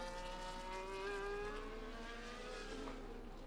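Race cars in a racing game lapping the China circuit, a high engine whine rising and sliding in pitch as they approach, with several cars droning together at a moderate distance.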